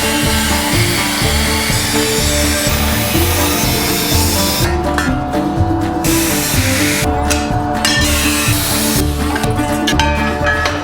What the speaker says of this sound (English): We're going to take an angle grinder and we're going to cut down there.